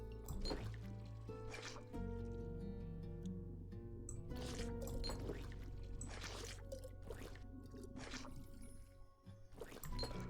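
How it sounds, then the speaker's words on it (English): Liquid pours into a glass in the tavern video game Tavern Talk, a gurgling, splashing stream broken into several short bursts over a steady background music bed. "Can I not pour anymore?"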